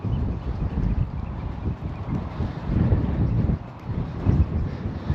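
Wind buffets the microphone by a harbour during early-morning bass fishing, a continuous low rumbling roar with gusty swells and no voices.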